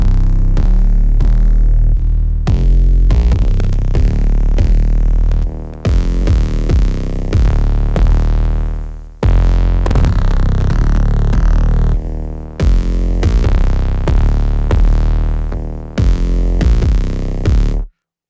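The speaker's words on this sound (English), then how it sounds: "distortion, you have new algorithms of distortion. You have, you know, dark drive, grungy drive, overdrive, tube A and B, and orange" Heavy distorted 808 bass notes from the FAW Sublab XL synth plugin, played alone in a loud, driven sequence of booming sustained hits with rhythmic gaps and short cutoffs.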